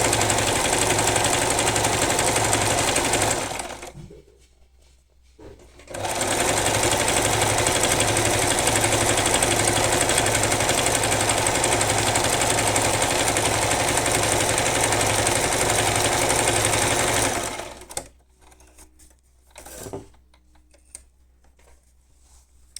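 A sewing machine stitches a straight seam with a loud, fast, even mechanical whir. It runs for several seconds, stops briefly, runs again for a long stretch, then falls quiet except for a few faint clicks.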